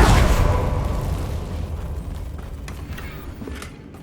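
A Confringo explosive spell from Hogwarts Legacy detonates with a loud, close blast, then a long rumbling tail fades over several seconds, with faint crackles near the end.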